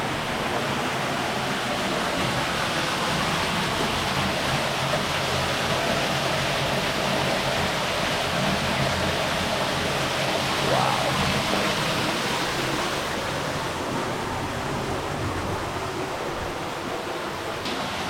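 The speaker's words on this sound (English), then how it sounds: "Look at that water seeping through there." Water seeps and flows steadily inside a cave near a hidden waterfall, a dense, even rushing wash that fills the whole stretch without pause, close and fairly loud with no voices.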